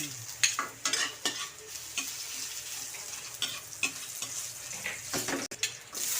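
Garlic sautéing in a frying pan while making sinigang sa miso with milkfish, a soft, steady sizzle broken by repeated spatula stirs and scrapes against the pan, fairly quiet and with no talking.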